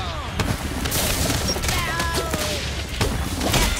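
Bombardment explosions in the video game Crash Team Rumble come as a dense, loud barrage of booms and crackling blasts, with whistling projectile sweeps over continuous game noise.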